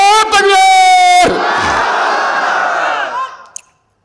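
A crowd gives a loud, unified shout of the takbir, Allahu Akbar, at a religious gathering after a preacher's call. One sustained roar swells and holds for a few seconds before fading out.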